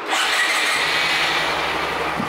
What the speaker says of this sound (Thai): จะมากดล็อก3สตาร์ทที่รีโมทให้ดูนะครับกด2ครั้ง